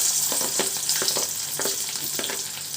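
Whole garlic cloves frying in hot oil in a kadai, a steady close sizzle with bubbling crackle and a few soft stirring scrapes throughout, no voices.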